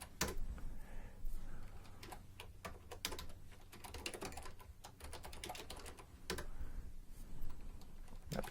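Close-up typing on a computer keyboard while configuring a database failover setup, irregular bursts of crisp key clicks with short pauses between them, quiet and alone with no talking.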